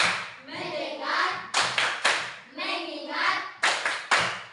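Children chanting a rhythmic class clap routine in a classroom, a group voice call with sharp hand claps punctuating the chant at regular intervals, close and fairly loud.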